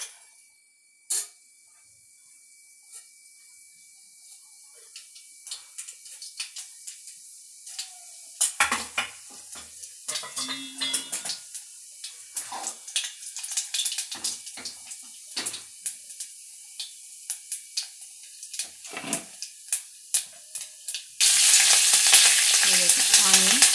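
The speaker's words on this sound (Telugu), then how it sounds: "ఇప్పుడు ఆయిల్ వేడెక్కాక పోపు దినుసులు వేసుకుందాం." Tempering spices dropped into three or four spoons of hot oil crackle and pop in scattered bursts that grow busier, then swell into a loud, continuous sizzle at the end.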